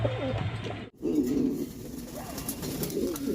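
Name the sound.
ice bird dhamachin pigeons cooing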